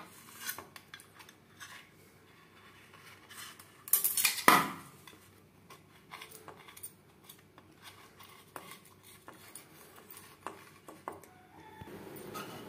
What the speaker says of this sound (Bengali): এইভাবে একটা চামচের সাহায্যে 4 সাইডটা ছাড়িয়ে নেব।